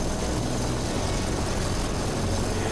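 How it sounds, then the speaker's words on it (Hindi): An Air Force rescue helicopter over the snowbound mountains of Lahaul Spiti, Himachal Pradesh, gives a steady, dense engine and rotor roar that fills the whole stretch without letting up, close and loud with no voices. "जगह देखकर हेलीकॉप्टर नीचे उतरता है"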